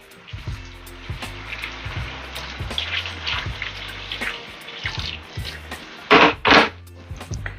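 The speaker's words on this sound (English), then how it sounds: "it's now time for us to add some water to the pot." Water runs and splashes steadily into a cooking pot of oxtail and butter beans, with a louder gush of pouring near the end, set against a low background hum.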